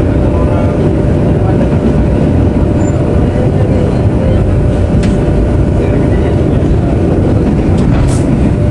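An executive-class Ranggajati train pulls into Klaten station, heard as a loud, continuous rumble of wheels and carriage noise throughout, with a few faint higher squeals.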